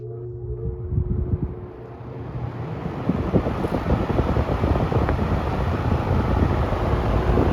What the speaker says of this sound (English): hopefully the wind noise on the camera will change based on the fan